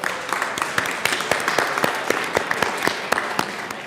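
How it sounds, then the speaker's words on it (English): Applause in a legislative chamber at the Colorado state capitol, a crowd clapping steadily with scattered sharp individual claps standing out, brief and fairly close. "Let's give them a round of applause."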